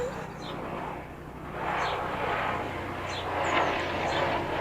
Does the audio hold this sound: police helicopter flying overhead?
yes